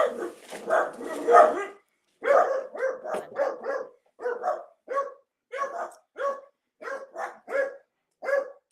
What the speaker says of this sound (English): She's the instigator of the barking.